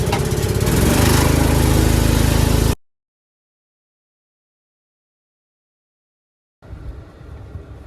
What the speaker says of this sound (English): Let's fire up the compressor and blow all that crap out.